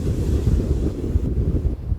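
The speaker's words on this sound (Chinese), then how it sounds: "哇，这个浪好大" Big waves on a deep bay crash under strong sea wind, with heavy wind buffeting the microphone into a loud, continuous roar that swells and dips without pause.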